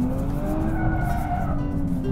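A Nissan Z NISMO slides through a turn, its tires squealing in a sustained howl over steady engine drone, close and continuous for the whole moment.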